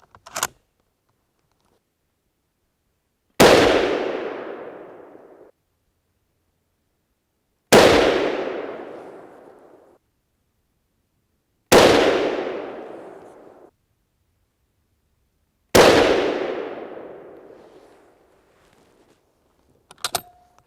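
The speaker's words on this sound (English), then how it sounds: "the 4 that we've got left, might as well put them in the magazine. We'll just shoot them all." Rifle shots from a 7.5x55 Swiss rifle loaded with Hornady SST ammunition, four loud, sharp cracks a few seconds apart with long echoing tails and silence between them, no talking.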